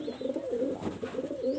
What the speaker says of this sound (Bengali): আমার ঘরে একটা গোল্ডেন কবুতর আছে ইম্পোর্টের